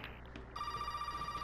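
After a brief quiet rustle, a telephone starts ringing with a steady electronic trill, a bright pulsing tone that continues evenly to the end, moderately loud and close.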